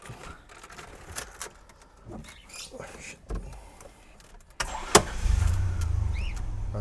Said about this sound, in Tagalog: Cold start. First start of the day.